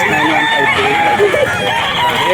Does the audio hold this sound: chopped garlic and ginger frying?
no